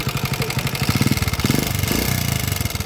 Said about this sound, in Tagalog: pakinggan muna natin yung andar niya dati, yung andar niya dating maingay